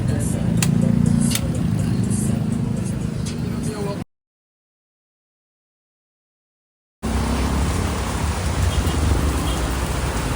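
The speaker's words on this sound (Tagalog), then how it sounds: "Buta na ng ulan. Lakas oh. Kanina ambon-ambon lang. Dito ulan na." Heavy rain hisses steadily, a dense roar broken by a few seconds of silence, while voices talk over it.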